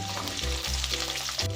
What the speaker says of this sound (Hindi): ऑयल गर्म हो चुका है, इसमें मैं डाल दूंगी फूल गोभी।